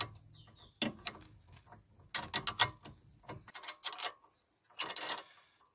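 Sharp ratcheting clicks from a hand tool working an Allen-head nut loose on a BMW shock absorber, in irregular close-up bursts with brief pauses and no voices.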